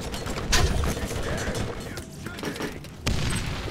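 Gunfire in the video game Borderlands, quick bursts of shots and booms at close range, loud and chaotic, with a player's voice under the din.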